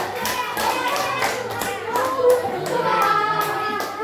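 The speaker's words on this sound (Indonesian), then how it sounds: "Jadi tepuk tangan untuk kelompok 2." A fifth-grade primary school class claps for a quiz group, patchy rhythmic hand claps from children at moderate volume with faint kid chatter underneath.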